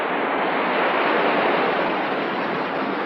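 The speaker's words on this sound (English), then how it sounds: "the ship makes its way out to open" Broad, steady ocean wash and rushing water surround a ship heading out to open sea, a dense, continuous roar with no voices.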